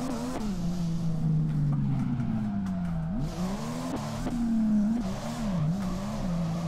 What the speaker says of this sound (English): Got that drift going.